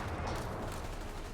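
Dense, continuous battle noise of explosions and gunfire around an M8 Scott self-propelled howitzer in the Company of Heroes 3 strategy game, a loud, rumbling barrage with no clear gaps.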